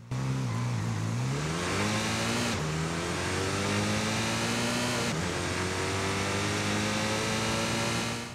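Hyundai Kona N 2-litre engine in Forza Horizon 5 revving hard through three rising sweeps separated by gear changes, loud and continuous with a rasping exhaust tone and no talk.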